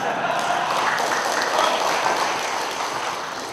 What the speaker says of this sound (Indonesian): Ini pasti buruh ini yang tepuk tangan.